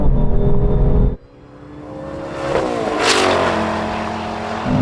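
A Mustang and a BMW M4 accelerate hard in a rolling drag race, one supercharged, engines roaring loud and close, a brief lift then rising revs and a shifting whine climbing as the cars pull away.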